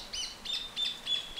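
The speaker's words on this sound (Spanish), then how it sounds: "Pájaros." Birds chirping in short, bright, repeated calls, about four quick bursts in a steady rhythm, fairly close and clear with no talk.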